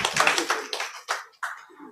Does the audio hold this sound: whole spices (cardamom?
no